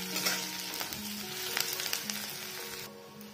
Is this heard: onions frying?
yes